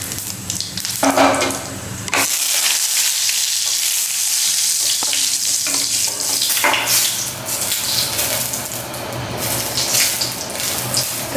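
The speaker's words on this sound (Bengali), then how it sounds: "তেলের মধ্যে দিয়ে দিচ্ছি গোটা জিরা, আর দুটি শুকনো লঙ্কা" Whole cumin seeds and two dried red chillies drop into hot oil and burst into a loud, steady sizzle with crackling spatter that carries on throughout, close up with no talking.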